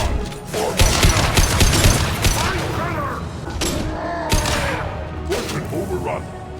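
Gunfire in a battle in the video game Mass Effect 2: rapid bursts of automatic fire and sharp shots with booms, loud and dense, while shouted voices come through between volleys.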